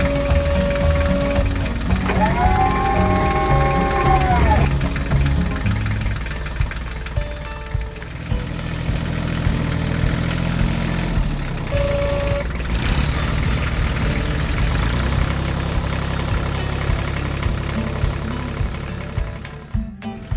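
Two farm tractors, one fitted with a loader and one pulling a large trailer, run on a snowy farm, their engines chugging and knocking loudly and close, with revving shifts, a brief whine and clanking throughout.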